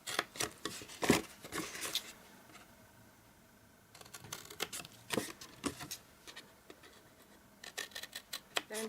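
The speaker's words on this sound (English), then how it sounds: "you only want to cut this little square here up to the score line" Scissors snip through cardstock while cutting a small square up to a score line for a folded elf gift box. The crisp cuts come in short, irregular clusters with a quiet gap in the middle.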